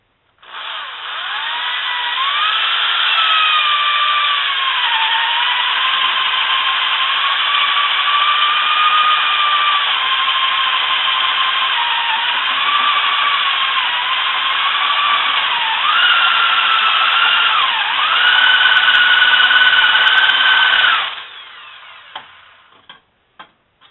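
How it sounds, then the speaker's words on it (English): A power drill bores a hole through a bow's lower limb in one long continuous whine, loud and close, with the motor pitch wavering under load before it stops abruptly. "Okay, so drill a hole in it, and so that fixes the lower limb."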